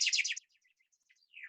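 A chaffinch sings a bright, quick run of notes that tumbles downward at the start, then goes quiet apart from faint scattered chirps before a short closing phrase.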